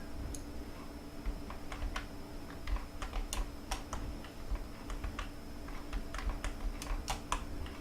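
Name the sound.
computer keyboard keys being pressed to control the game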